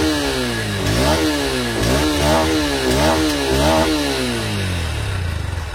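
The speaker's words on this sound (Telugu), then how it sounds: "దీని యొక్క ఎగ్జాస్ట్ నోట్ ఒకసారి వినిపిస్తాను" A 2024 Honda CB200X motorcycle idles close by, then its exhaust rises and falls through four or five quick throttle blips, each rev climbing sharply before dropping back to a steady rumble.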